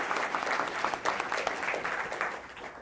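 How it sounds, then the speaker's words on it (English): An audience at a lecture breaks into steady, sustained applause, many hands clapping at moderate loudness in a room, with dense even texture throughout. "Let's give her a clap."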